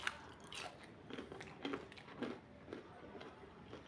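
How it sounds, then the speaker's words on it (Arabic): Crunchy fried datli, a syrup-soaked dough dessert, is bitten and chewed close up, with several sharp crisp crunches spaced through a few seconds and no talking. "هذا الداطلي سمعون قرمشة"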